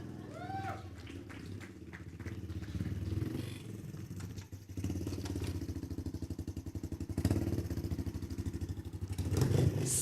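Motorbike engine idling and ticking over with rapid regular pulsing that builds in loudness toward the end, with a few voices and clattering around it.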